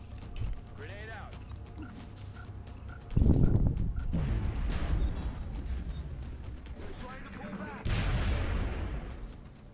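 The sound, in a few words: grenade explosion in video game XCOM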